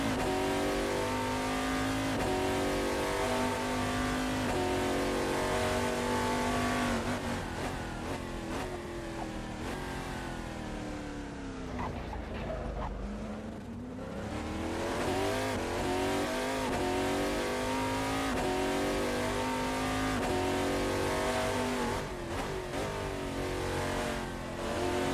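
Oreca FLM09 prototype race car at Sentul Circuit in a sim racing game, engine roaring loud and continuous with rising and falling revs through gear changes, dipping briefly mid-run before climbing hard again.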